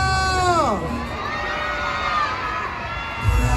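A large crowd cheers, whoops and shouts at an outdoor festival celebrating the Green March anniversary in Al Amal square, Agadir. A rising whistle-like sweep opens the roar, and the noise stays loud and steady throughout.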